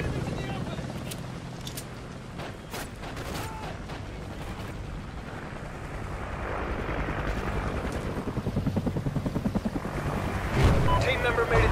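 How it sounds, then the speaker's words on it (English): Friendly helicopter arriving in Call of Duty: Ghosts multiplayer, a rumbling rotor drone swelling louder toward the end amid wind-like noise, gunfire crackle and game voice lines. "Friendly chopper inbound."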